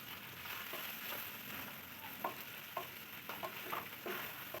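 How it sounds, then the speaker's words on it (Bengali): Tangra fish sizzling on their second side in a frying pan, a quieter steady fry broken by a few light scrapes and pops as the pieces are turned. "আরেক পিঠ ভাজার জন্য উল্টে দেবো।"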